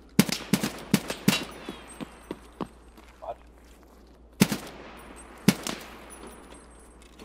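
Gunfire rattles close by, several quick sharp shots in a rapid burst followed by scattered single cracks and a couple of louder later shots, with gaps of quiet between them.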